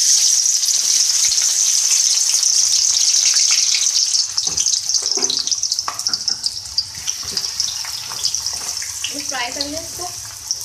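Loud, steady sizzle of onions dropped into hot mustard oil, hissing strongly at first and then easing into a crackling fry, with a voice talking over it in places.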